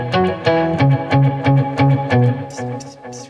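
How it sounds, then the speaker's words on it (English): An electric guitar plays a bouncy riff of repeated notes, drenched in springy reverb with an octave doubling and trailing delay echoes. "some kind of spring reverb and some octave and a bit of delay"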